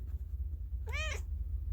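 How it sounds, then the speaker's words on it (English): A pet cat gives a single clear, close meow, short and rising then falling, over a low steady background hum. "Here's my kitty cat."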